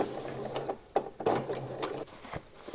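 Short, uneven bursts of a sewing machine stitching slowly to close a gap in drawstring shorts, with starts and stops, clicks and fabric handling nearby.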